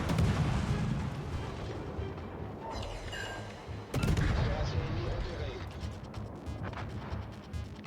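Long-range naval gunfire from the World of Warships video game, featuring the Mogador destroyer: repeated booming shots and blasts over a dense rumbling battle bed, with a sharp loud burst near the middle, while a voice talks over it.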